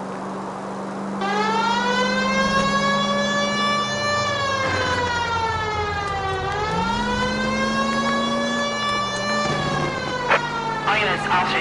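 A 1940s-style police car siren in the video game L.A. Noire wails loud and steady, rising and falling in a long sustained tone over engine rumble, with someone talking over it.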